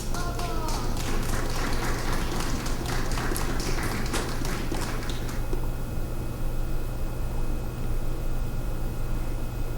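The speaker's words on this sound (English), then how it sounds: "Clap hands." A recorded applause effect plays in a virtual-world comedy venue: dense crowd clapping for about five seconds, then it cuts off, leaving only a steady low hum.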